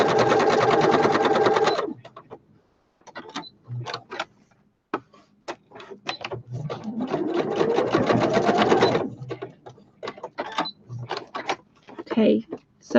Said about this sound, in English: I'm just going to use a normal straight stitch